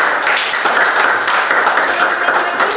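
Loud, close applause from a classroom of students during a physics lesson on Archimedes' principle, a busy, steady patter of many hands with no pauses.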